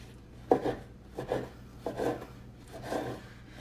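Bread sliced into half-inch cubes for Thanksgiving stuffing, four soft rasping knife strokes about a second apart, close and fairly quiet with no talking.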